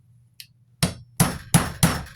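Four sharp metallic hammer taps driving a roll pin back into a PSA Dagger Compact pistol frame, each strike crisp and close with a short ring, following a faint earlier tick in a quiet room.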